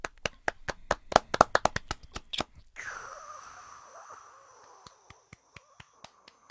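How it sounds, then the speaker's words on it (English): Sharp, close hand claps in an uneven run, then a brief sustained noisy swell followed by scattered single claps spaced out, fairly loud and without speech, recorded in a studio. "I can hear you sniffling and applauding"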